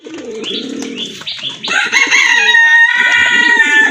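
A pair of kagoji pigeons call loudly at close range, with low rolling coos followed by a sharper, drawn-out crowing-like cry that fills the last half of the moment.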